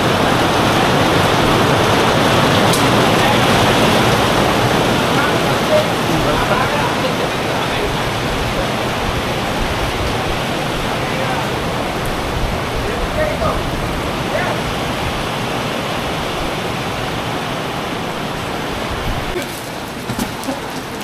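Heavy rain pours steadily in a dense, continuous hiss, loud and close throughout, at an events venue in Apalit, Pampanga, with a few faint voices murmuring underneath.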